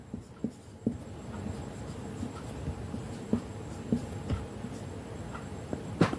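A pen scratches out a math problem on paper with short strokes and small taps, quiet and close, in irregular bursts with no talking.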